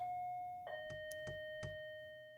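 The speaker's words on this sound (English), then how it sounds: "Who the hell is ringing my doorbell?" A faint doorbell chime rings with a steady electronic tone, while a few soft clicks or taps sound in the background.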